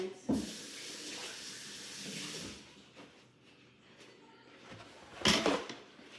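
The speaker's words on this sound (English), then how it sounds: "Wash my hands." Tap water runs into a kitchen sink during hand washing, a steady hiss through the first half that fades, with a brief louder splash near the end; no talking.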